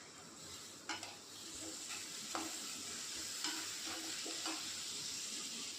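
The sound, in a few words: cabbage rice masala with tomato and turmeric frying in pan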